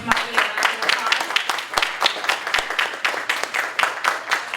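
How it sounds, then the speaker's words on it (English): An audience applauds after a lecture on the history of AI. Many sharp hand claps ring out fairly close in a lively, irregular burst that runs throughout. "Can Thank we you. give Marty a round of applause?"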